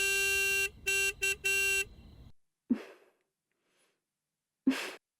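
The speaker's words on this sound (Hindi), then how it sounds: "कोई हॉर्न बजा रहा है बाहर" Car horn honking outside a house: four short blasts in quick succession, fairly loud, followed by near silence broken by a couple of dull thumps.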